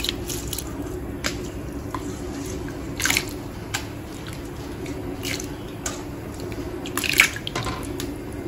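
Washed rice goes into a pot of boiling dal with soft wet splashes and squishy plops, loudest in two short bursts over a steady bubbling, watery background, and nobody speaks.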